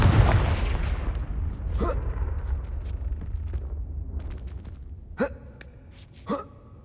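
A Confringo blasting curse in the Hogwarts Legacy video game opens with a loud explosive burst that decays into a rumbling tail, followed later by two sharper, quieter cracks.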